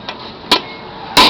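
Sharp hammer blows strike one after another, a light tap followed by two louder knocks spaced unevenly, each a crisp short impact close by with no voices.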